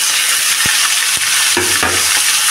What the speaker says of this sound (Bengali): সব সবজিগুলো ভালো করে ভাজা করে নেব।